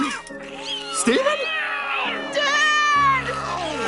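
Cartoon cats sprouting from a boy's fingers in Steven Universe meow in a rapid overlapping chorus, high and whiny, under strained, urgent voices.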